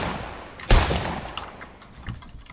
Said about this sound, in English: I see where they're shooting at.